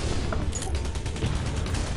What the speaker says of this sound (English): Your cannon minigun will overheat